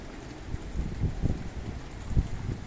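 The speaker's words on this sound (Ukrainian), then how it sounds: "вітер такий" Strong storm wind gusting outdoors during a power outage in Canada, a low rumbling roar buffeting the microphone in uneven surges, loudest near the end.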